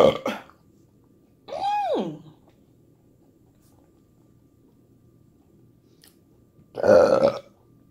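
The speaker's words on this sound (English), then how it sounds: "I burp like a man, then dab like a lady." Three loud, close burps during a meal of a veggie burger and onion rings, spaced apart with quiet pauses between them.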